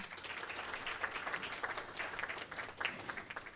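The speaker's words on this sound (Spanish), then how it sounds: "Un aplauso para la doctora." A room full of people at a hospital scientific conference, Hospital Dr. Hugo Mendoza, claps for a doctor, the applause dense and steady with a few louder individual claps standing out.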